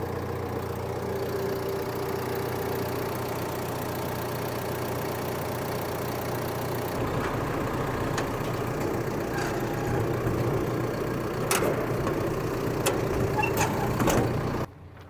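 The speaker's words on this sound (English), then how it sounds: "Engine sounds good." A 2014 Deere 310SK loader backhoe diesel engine idles steadily and close by for a long stretch, a constant low rumble with a slight shift in tone partway through and a few faint clicks and knocks near the end.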